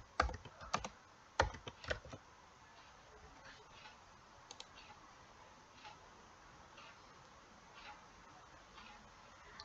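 Keystrokes on a computer keyboard as a search term is entered, a quick cluster of sharp clicks at the start, a few scattered taps later, then quiet room tone.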